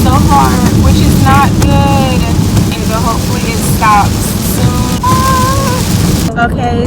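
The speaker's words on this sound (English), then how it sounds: "it's raining so hard, which is not good" Heavy rain pours down in a steady, dense, loud hiss that fills the whole stretch, with faint tonal voice-like sounds drifting above it.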